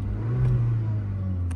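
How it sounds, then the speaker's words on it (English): The engine of a 2019 VW Golf Wagon hums close by as it is revved, rising slightly in a steady, low drone without sharp peaks. "let's give it a couple revs"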